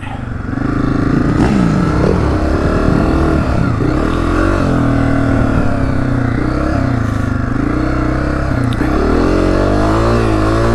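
A Honda CRF250F dirt bike ridden through Arizona desert terrain gives a loud, continuous engine drone that rises and falls with throttle changes, heard close as if from the rider's position.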